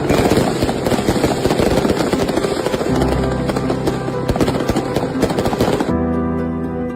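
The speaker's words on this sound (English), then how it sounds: "look at that thing in the Sandy Row with the fireworks" Fireworks go off at a huge midnight bonfire on Sandy Row in Ulster, a dense loud barrage of rapid crackling bangs that gives way near the end to a lower rumbling tone.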